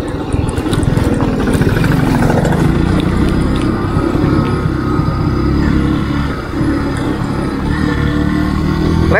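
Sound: motorcycle engine idling

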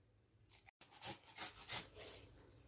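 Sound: grating carrots for carrot halwa

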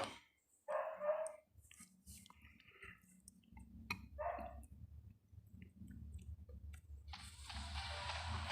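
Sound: dog barking

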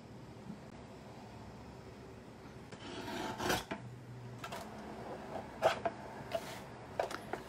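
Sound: trimming paper cards

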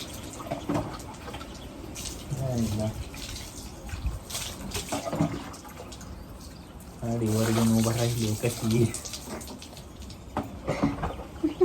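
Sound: water poured while bathing child

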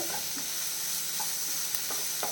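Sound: egg roast masala sautéing and stirring in pan

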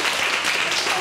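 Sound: applause

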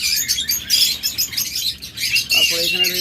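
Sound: lovebirds or budgerigars chirping

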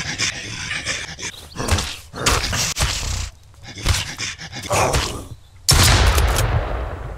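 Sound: shotgun blast in video game Mist Survival

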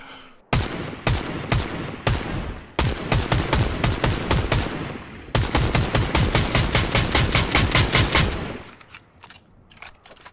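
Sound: gunfire in the video game Fortnite

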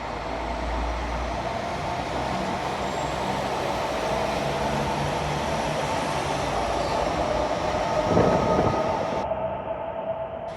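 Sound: diesel locomotive departing Wrocław Główny station

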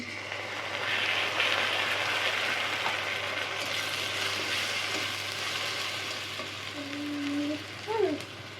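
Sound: onion and spices frying in pan

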